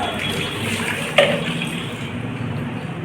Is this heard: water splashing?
yes